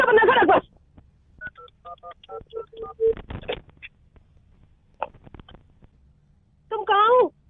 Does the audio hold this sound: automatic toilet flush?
no